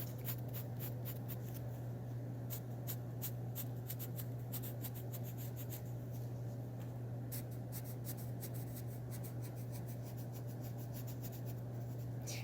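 A pencil shading dark tones on paper during a drawing demonstration, a steady soft scratching and rubbing that runs continuously with repeated light strokes, close and fairly quiet over a constant low hum.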